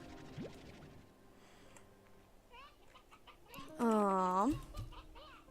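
Hens cluck in Slime Rancher 2, giving scattered soft clucks and one loud squawk near the end, while a player's voice talks quietly in the background.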